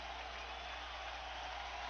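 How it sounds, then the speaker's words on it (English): A baseball crowd at Shea Stadium gives a standing ovation, a steady faint wash of applause and crowd noise heard from a distance without a break. "He gets a standing ovation from the crowd here at Shea"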